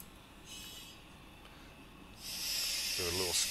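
A freight train's air brake vents a loud hiss of compressed air during a 6-pound brake reduction, a steady rushing release that rises near the end, while a voice speaks underneath.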